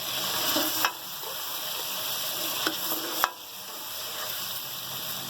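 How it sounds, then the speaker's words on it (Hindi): Beef kofta meatballs fry in a pot of hot oil with a steady, dense sizzle, broken by a few sharp clicks and scrapes of a spoon stirring them. "ये मैंने फ्राई करके कोफ्ते रखे हैं, ये हम डाल देंगे इसमें। इनको भी हम 1 से 2 मिनट फ्राई करेंगे।"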